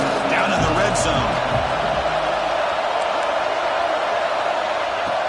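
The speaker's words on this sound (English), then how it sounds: "the crowd coming to life here, trying to help this defense down in the red zone" A stadium crowd in a college football video game roars in a broad, steady wash of noise, loud and sustained, with a few brief thumps and shouts near the start.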